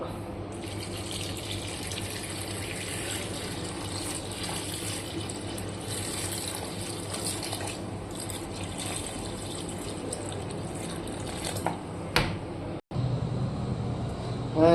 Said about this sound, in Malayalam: നമ്മളതിൽ കുറച്ച് വെള്ളം ഒഴിക്കുക